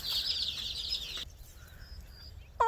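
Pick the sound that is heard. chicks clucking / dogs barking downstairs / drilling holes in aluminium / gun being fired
chicks clucking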